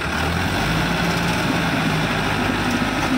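Heavy diesel engines of an Eicher 485 and a Powertrac Euro 60 tractor working hard during a tug-of-war contest, a loud continuous low rumble with a steady throb and no pauses, close by.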